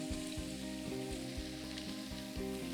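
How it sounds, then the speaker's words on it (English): Sliced onions and potatoes sizzle in hot oil in a pan for a French home-cooked dish, a continuous bright hiss with background music beneath. "Now the onions go in the oil, and the potatoes going with them."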